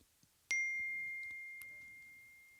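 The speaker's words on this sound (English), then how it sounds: "Someone just texted me." A single bright notification ding from a new phone rings out for a text message, then fades in a long sustained tone, with faint quiet clicks before it.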